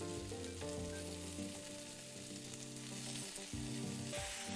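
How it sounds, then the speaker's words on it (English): Beef searing in a pan for stew, a dense continuous sizzle heard close and alone, quiet overall, with a steady hum beneath. "You should have a nice little searing action going on"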